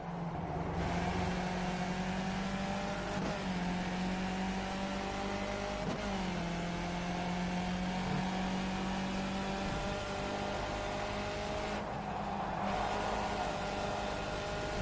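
Skip Barber race car in iRacing at Donington Park, its engine droning loudly and steadily with shifting pitch as it runs high in the revs after a wrong gear, with no talk.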